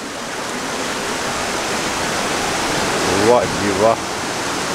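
Glacier meltwater rushes down from high above near Naran in the mountains, a loud continuous broadband roar filling the clip while someone speaks briefly over it near the end.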